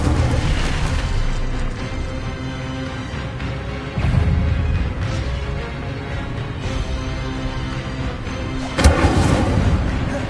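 An Incendio fire spell goes off in the Hogwarts Legacy video game, a loud, continuous roaring burst with heavier booming surges near the start and again toward the end.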